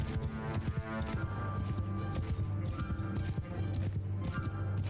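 Cavalry horses galloping in Mount & Blade II: Bannerlord, dense rapid hoofbeats pounding continuously close by, with a faint whinny amid the clatter of a battle.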